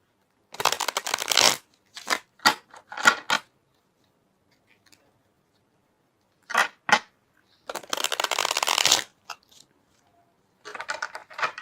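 Tarot cards shuffled by hand in several separate bursts of riffling and slapping, close and crisp, with quiet pauses between them and no talking.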